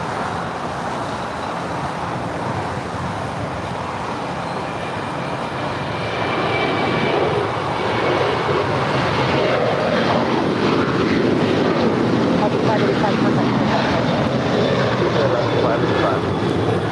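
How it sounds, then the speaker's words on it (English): Alaska Airlines jet departing LAX for Seattle, a broad roaring engine rumble that swells louder midway and holds steady, heard at a distance with faint background noise. "That is Alaska Flight 585 off to Seattle."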